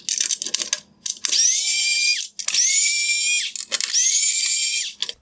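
Power screwdriver backing out T15 Torx screws from the reflector of a 2016-2020 Tesla Model X LED headlight, three sustained high whining runs of about a second each with faint clicks between.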